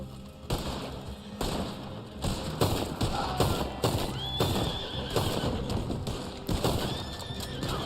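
A horse in the video game Red Dead Online whinnies several times over thudding, clip-clopping hooves and sharp impact sounds, at moderate loudness with no talk.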